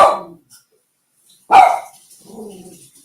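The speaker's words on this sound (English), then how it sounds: "there's some deer out in the yard, so the dog's going crazy" A dog barking at deer in the yard gives a few loud, sharp barks close by. Long quiet gaps separate them, and a softer whine trails after.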